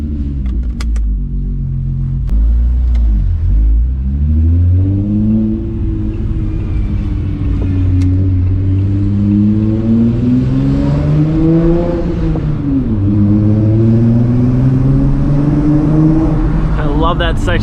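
A Mk3 Jetta VR6 or Mk4 R32 engine hums and revs steadily for a long stretch, its sound booming and echoing as though driving through an enclosed passage.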